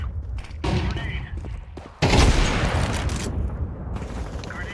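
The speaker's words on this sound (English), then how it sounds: "Throwing a grenade." In a video game, a grenade blast booms out amid bursts of gunfire, with sharp shots early and a loud explosion midway trailing into rumbling noise.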